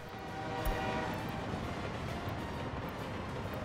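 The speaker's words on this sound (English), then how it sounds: "There's a train." A train in the Workers & Resources: Soviet Republic video game gives a steady, loud rumbling roll with a brief knock near the start and no talk over it.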